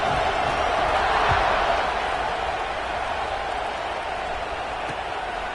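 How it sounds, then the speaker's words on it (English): Steady crowd murmur filling a football stadium in a football video game, a continuous broad wash of voices after a score with no distinct cheers standing out. "this crowd is buzzing after that last score"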